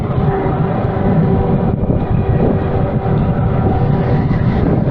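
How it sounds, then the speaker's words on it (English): Strong wind buffets the microphone in a constant low roar, loud and unbroken for the whole stretch. "Wow, it's really windy."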